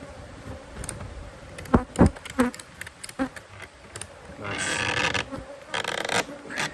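Honeybees buzz around a beehive as it is worked on, a steady close hum that swells louder partway through, mixed with knocks and clatter of hive parts being handled.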